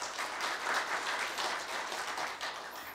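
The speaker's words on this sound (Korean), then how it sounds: "감사의 박수를 부탁드립니다" Audience applause fills a Korea University staff retirement ceremony, a steady, dense wash of many hands clapping that holds at an even level throughout without voices.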